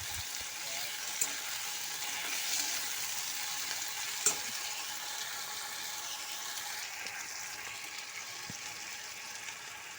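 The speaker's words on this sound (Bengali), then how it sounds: "এই যে টমেটো নুন দিয়ে আমি সবজিগুলো ভাজা ভাজা করছি" Vegetables with tomato and salt fry in a pan with a continuous, gentle sizzle, broken by a few faint clicks of stirring.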